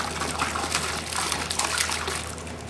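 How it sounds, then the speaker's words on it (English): Water splashing and running steadily as a pool conditioner bottle is rinsed out, a continuous close gush with light bubbling throughout, no talking. "We'll rinse the bottle."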